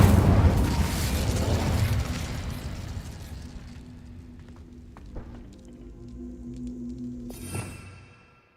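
Incendio fire spell cast in Hogwarts Legacy, a burst of fiery whoosh and boom that fades over a few seconds, followed by smaller crackles, pops and a final bright magical flare.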